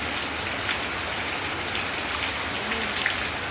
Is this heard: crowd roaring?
no